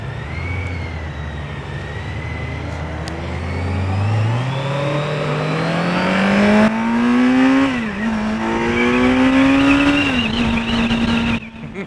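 A Kawasaki Z900 motorcycle accelerates hard through the gears, its engine note climbing steadily, dipping briefly at a shift, then rising again, loud and close, with no one talking.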